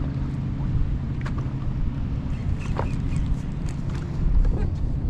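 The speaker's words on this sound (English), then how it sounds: "Just one constant stream of boats this time of day." Steady low engine drone of a constant stream of boats passing nearby on salt water, layered with wind and water noise, continuous throughout with occasional splashes.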